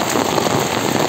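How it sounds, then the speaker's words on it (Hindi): Heavy outdoor rain falling hard on surfaces, a dense, loud, continuous hiss of drops with no pauses, close around and no voices. "काफ़ी ज़्यादा तेज़ बारिश हो रही है"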